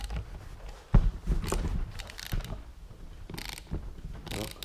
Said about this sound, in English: everything is turning while I'm trying to unscrew it